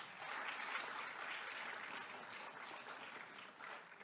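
Steady, dense applause from an audience at a county budget address, heard from a distance and fairly faint, continuous throughout without any speech.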